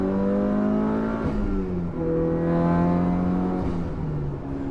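A turbocharged Mitsubishi Lancer Evolution 8 engine revs up steadily toward redline inside the car, a loud continuous rising drone with no talk over it.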